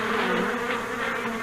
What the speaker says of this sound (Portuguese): Para remover um enxame de abelhas ativas, como este, Chadwick começa oferecendo-lhes uma refeiçã